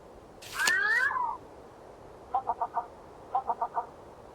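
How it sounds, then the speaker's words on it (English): Malleefowl call in the Wingspan Oceania bird game: a loud, harsh descending honk or wail first, then two quick sets of four short, evenly spaced clucking notes, heard alone against faint background hiss. "Malleefowl."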